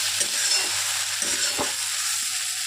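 Potatoes and banana flower frying in a pan hiss and sizzle steadily as a little water goes in, with a few soft stirring scrapes and taps close by.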